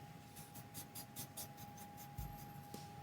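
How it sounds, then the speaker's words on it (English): Magic eraser rubbing underglaze off a bisque-fired pottery plate, a quiet run of soft, repeated scrubbing strokes with a steady hum underneath. "maybe if I can magic erase some here"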